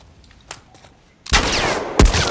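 Gunshots ring out in The Last of Us video game: a faint early crack, then two loud, close, booming shots with a sharp attack and echoing tail, about a second apart.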